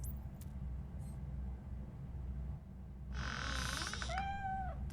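A cat meows in the video game RoboCop: Rogue City, a couple of clear, rising and falling meows close up near the end over a low ambient game rumble.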